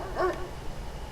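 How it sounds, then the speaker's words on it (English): A single dog bark from nearby in the video game Death Mark, set outside by a forest, rings out as one short yelp over a quiet ambient background. "Well, it's a bark from nearby."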